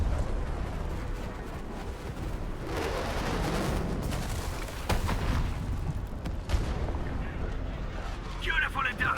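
An artillery strike by the UWST in Arknights: Endfield: rumbling booms and blasts rise and fall over a steady game soundscape, with some brighter crackling near the end.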